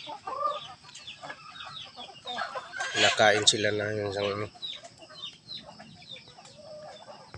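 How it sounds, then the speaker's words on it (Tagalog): Chickens cluck and squawk nearby, with a loud burst of clucking in the middle and a brief spoken phrase. "Mga manok naman"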